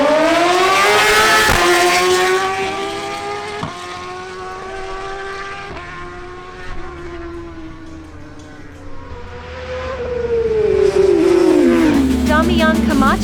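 Suzuki GSX-R1000 sport motorcycles at a drag race, a high-revving engine screaming through rising gear changes, dipping as it pulls away and then swelling loud again as another bike passes close, with talk underneath.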